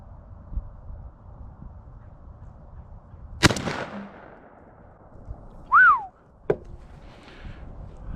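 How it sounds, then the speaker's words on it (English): A single sharp, loud report from a Stevens 301 .410 single-shot shotgun fired outdoors at a target 20 yards away, followed by a short fading echo, a brief whistle and a metallic click against quiet surroundings. "it's my first shot from 20 yards."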